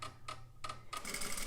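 A home sewing machine backstitches with its stitch dial set to long stitches, giving short bursts of rapid mechanical clatter separated by brief pauses, then a longer steady run of needle chatter close by.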